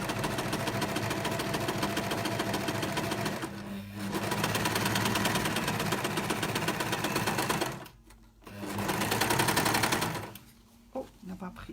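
An overlocker serger stitching elastic into a seam runs in long, loud, rapid whirring bursts with brief pauses between them, heard close up with no talking over it.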